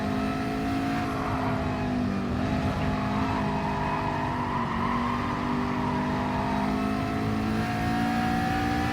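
A McLaren race car in GT Sport revving steadily under power, a loud sustained engine drone with pitch gently rising and falling, no talk.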